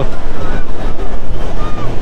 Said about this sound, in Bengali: এই যে সমুদ্র,